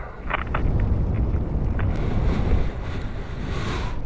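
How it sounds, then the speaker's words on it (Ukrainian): Strong wind roars and buffets the microphone continuously on Maddalena island, Sardinia, with a broad rushing noise like surf in the background and no talking. "Сьогодні вітер."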